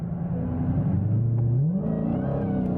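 A deep, rumbling Dodge Challenger Hellcat RedEye engine revs up and climbs in pitch, loud and close, with a throaty roar as the tires break traction on a cold morning.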